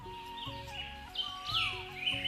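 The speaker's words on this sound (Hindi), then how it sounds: "रास्ते में पक्षियों की चहचहाहट और ताज़ी हवा ने उनकी यात्रा को आनंदमय बना दिया।" Birds chirp and tweet in a forest in short, bright calls that rise and fall over a soft continuous background, moderately close and fairly quiet.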